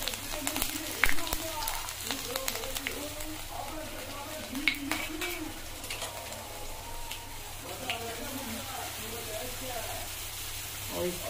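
Chopped garlic cloves and fennel seeds sizzle in hot oil in a pan for Rajasthani kadhi, a steady close crackle and hiss with stirring, heard beneath someone talking.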